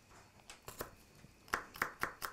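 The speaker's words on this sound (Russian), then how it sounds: "Так, порубим." A knife chops garlic finely on a cutting board in a home kitchen, soft taps at first, then a run of sharper, louder knocks in a steady rhythm, close and otherwise quiet.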